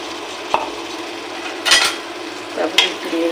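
Fish go into a pan of frying spice masala, bringing a steady close sizzle with a few spoon-stirring scrapes and clinks over it.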